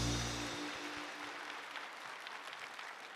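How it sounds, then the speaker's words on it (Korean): A church congregation at a Christmas Sunday service claps warmly, a continuous even patter of many hands heard at a moderate distance as a held musical chord fades out at the very start. "다시 한번 뜨겁게 박수해 주시기 바랍니다"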